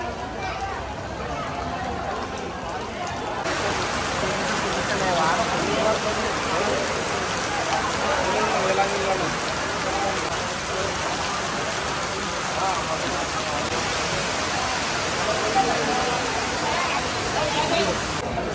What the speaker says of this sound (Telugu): ఇప్పుడే వాన పడుతుంది ఇక్కడ